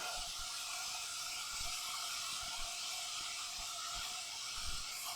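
Kebab sizzles steadily in a hot frying pan, a constant bright hiss with occasional soft pops and crackles underneath.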